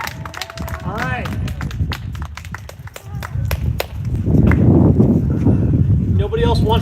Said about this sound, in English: Please give her another hand of applause.